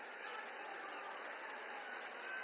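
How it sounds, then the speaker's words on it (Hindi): Dense, steady applause from a large crowd at a political rally in India welcoming Modi, a continuous even wash of clapping with no breaks or talk over it. "आपसे आग्रह है जोरदार तालियों से मोदी जी के"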